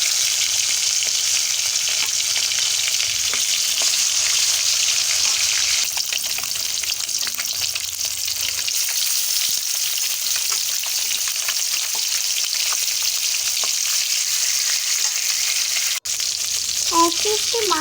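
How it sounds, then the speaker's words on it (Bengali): Pieces of fish frying one by one in hot oil in a kadai wok, giving a constant loud, crackling sizzle that stays steady throughout, with a few clinks of utensils near the end. "এরপর একটা একটা করে মাছ কড়াই দিতে থাকবো।"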